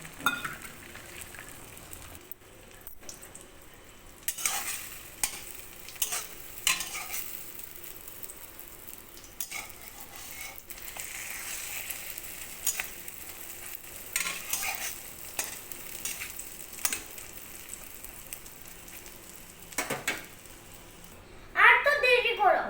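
An egg omelette fries in a pan at home, with stirring and scraping clatter over a soft steady sizzle, louder utensil knocks toward the end.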